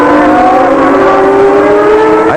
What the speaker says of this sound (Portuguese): Aí vem Senna na segunda volta